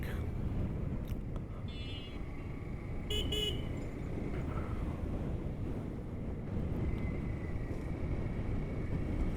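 Road traffic on Jessore Road with cycle vans, autos and easy bikes passes as a low, faint rumble under wind noise, broken by a couple of short horn toots heard from a little distance.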